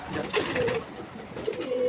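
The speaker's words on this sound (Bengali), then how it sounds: "এই দেখো একটা ঘুঘু পাখি" Soft, close cooing of a dove, two low hooting phrases separated by a short pause, over faint background noise.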